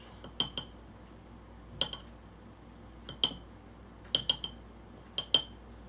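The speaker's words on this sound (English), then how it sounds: "I'm just gonna use a spoon to kind of get the excess off" A spoon clinks and taps against a jar while excess gluten-free sourdough starter is scraped from the sides, a series of sharp, bright clicks coming in small clusters over a quiet background.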